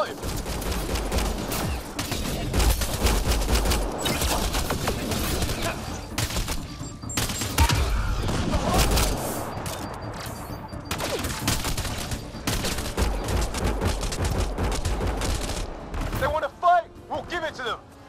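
Sustained bursts of rapid gunfire and booming shots fill a firefight in the video game Mass Effect: Andromeda, with dense overlapping volleys and in-game voices, fading to quieter effects at the very end.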